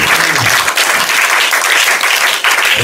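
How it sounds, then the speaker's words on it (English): Church congregation applauding during a service, loud dense clapping from many people filling the space continuously. "Give yourself another round of applause"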